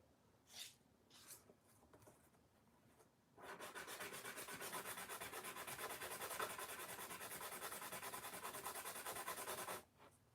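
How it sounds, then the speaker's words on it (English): Strong sandpaper worked against the arm of a designer toy: a few brief rubs, then a steady, close, rhythmic scratching stroke held for about six seconds before stopping. "When you use a strong sandpaper like this too, always frequently check, because you want to try to avoid taking off too much if you can."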